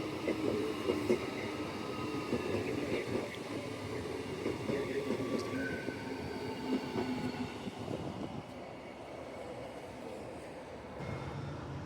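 A passenger train running from Cockburn Central to Perth rumbles steadily with wheel clatter and faint squeals, heard from inside the carriage as a continuous loud drone that eases slightly near the end, with some talk mixed in.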